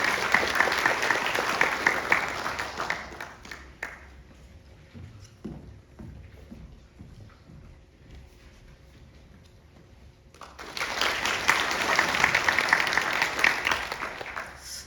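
Applause from an audience at a National Assembly infrastructure forum, a loud burst that dies away into near silence for several seconds before swelling again into full, sustained clapping.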